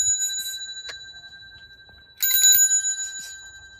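A bright bell rings in a couple of short bursts, with a single ding between them and a louder cluster of rapid rings near the end.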